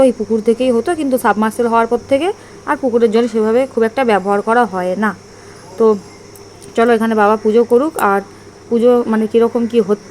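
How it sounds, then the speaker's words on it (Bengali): Crickets nesting in a mango tree keep up a thin, continuous high chirring in the background while a person talks at length nearby. "আমাদের আম গাছে মনে হয় ঝিঝি পোকা বাসা করেছে। তো কন্টিনিউয়াসলি ঝিঝি পোকার ডাক"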